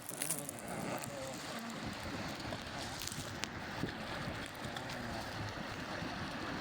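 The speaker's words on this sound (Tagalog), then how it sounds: "Lakas ng agos." Strong river current rushing past a vehicle crossing the water, a steady broadband wash with wind buffeting the microphone and faint voices in the background.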